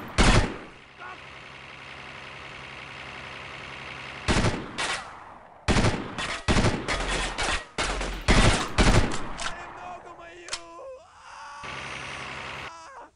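Gunfire in the Delta Force 2 video game, with rapid automatic bursts and single loud shots coming in clusters, close and punchy, over a steady background hum.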